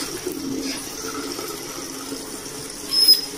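A hotel bathroom shower at Finca Las Glorias by Lake Yojoa runs with a faint, steady hiss of water that swells slightly near the end.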